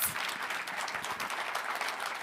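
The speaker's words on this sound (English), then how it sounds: "I think we need a louder and wilder round of applause for our co-hosts" Steady applause from a forum audience for the co-hosts of a universal health coverage high-level event, a dense even wash of many hands clapping throughout, loud and sustained with no voices over it.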